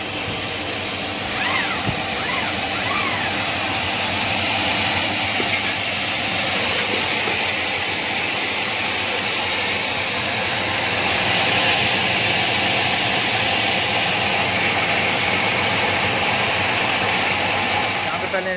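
An electric motor drives the grain-cleaning machine of a village flour mill in Punjab, Pakistan, producing a loud, steady, broadband mechanical roar throughout. Someone speaks, partly buried under the machine noise.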